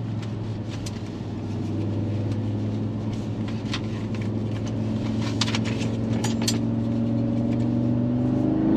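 A 2022 Audi S3 accelerating on a wet Colorado mountain road, heard from inside as a steady engine drone that climbs in pitch over the clip, with tyre hiss beneath and no talking.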